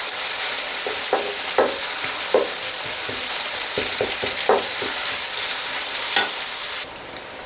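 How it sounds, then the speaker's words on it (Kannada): Onions sizzle and fry steadily in hot oil with bay leaf and cardamom for a chicken fry, with scattered sharp clicks of a spoon stirring the pan, close and loud, and no talk. "ಇದು ಈರುಳ್ಳಿ ಸ್ವಲ್ಪ ಫ್ರೈ ಆಗಬೇಕು"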